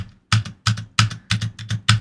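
Loud, hollow clacks come from the space bar of an inexpensive mechanical keyboard, struck about seven times in an uneven rhythm, each press followed by a rattling return, heard close with no other sound.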